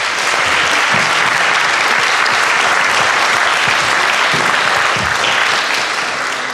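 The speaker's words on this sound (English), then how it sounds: "So please give a round of applause." Sustained audience applause fills a school board of education meeting, dense and steady clapping at full loudness throughout with no pauses or talk.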